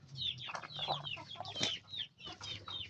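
A fighting-breed chicken, newly bought and just placed in a cage, giving a run of close, agitated clucks and squawks over about three seconds, with no talk.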